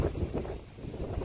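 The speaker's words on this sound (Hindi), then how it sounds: "बहुत जोर की हवा चल रही है।" Strong wind gusts through a Himalayan mountain village, a broad steady roar buffeting the microphone with low rumbling surges, no voices present.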